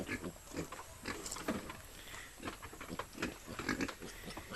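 Piglets grunt and oink in quick, irregular bursts while being fed by hand on a small farm, the sounds close but fairly quiet against a constant background hiss, with no talking.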